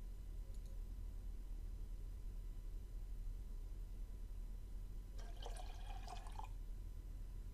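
In the video game Black Mirror II, developer liquid is poured into a film developing tank, heard as a single short gurgling pour over a faint, quiet background.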